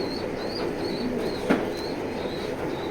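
Pigeon cooing in a loft among racing pigeons, soft repeated coos over a steady ambient hiss, with a brief sharp knock midway.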